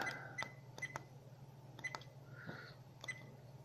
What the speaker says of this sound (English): Then you have the beep sounds for the buttons, as you can hear.